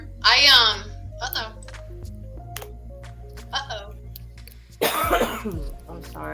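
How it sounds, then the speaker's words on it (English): A woman coughs twice in close succession near the start, a third cough follows around two seconds later, and a loud burst of coughing comes near the end, set against quiet room tone during an online panel chat. "Is that super loud when I cough?"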